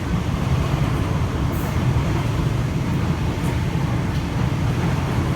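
A Sydney Trains Waratah B-set electric train rolls past a station platform, giving a loud, steady, close rumble and rush throughout with faint higher squeals above it.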